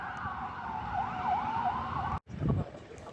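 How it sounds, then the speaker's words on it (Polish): Ambulance and police car sirens wail past near a Warsaw railway station, a rising and falling two-tone sweep that holds steady for about two seconds, then a brief cutout before a rougher burst of passing traffic noise. "Coś się stało, jedzie karetka i policja."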